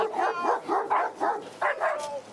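Several dogs bark and yip excitedly in quick bursts, close by, with a little whimpering between the barks.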